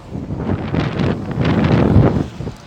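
Wind blowing outdoors buffets the microphone in a steady, rumbling rush that swells and fades over a few seconds, with no voices.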